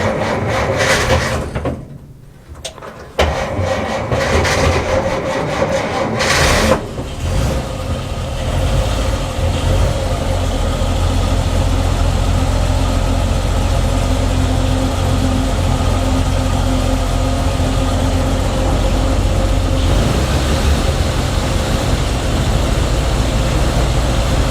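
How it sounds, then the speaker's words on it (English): Ford Anglia E494A engine cranked on choke until it catches, then settling into a loud, steady, rumbling idle that runs on close by. "So ignition on, bit of choke, let's see what happens."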